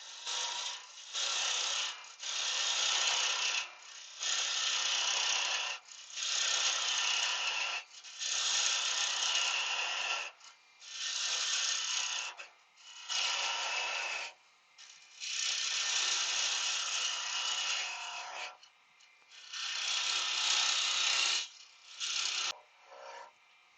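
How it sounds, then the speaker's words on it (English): A bowl gouge cuts wood on a lathe, making repeated raspy, scraping bursts of a second or two, close and fairly loud, with brief gaps between passes. "I'm going to use the bowl gouge here."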